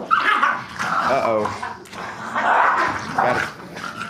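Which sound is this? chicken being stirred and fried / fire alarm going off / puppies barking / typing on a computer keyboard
puppies barking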